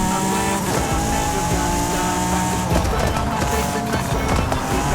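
Honda NSX-R sliding in Forza Horizon 5, a loud, continuous engine drone with shifting pitch lines and tire scrub through the slide, other cars close by, no talk.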